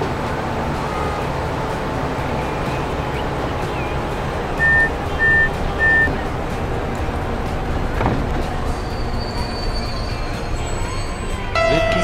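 Hybrid train pulling out of a station in the Transport Fever simulation game, a steady rumbling rail and engine bed throughout with a few short electronic beeps and a faint whine toward the end.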